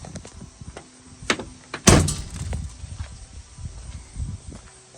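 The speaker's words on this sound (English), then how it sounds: "Let's close the door." A Ford Super Duty pickup truck door swings shut with one solid thunk near the two-second mark, preceded and followed by faint rustling and handling noises close by.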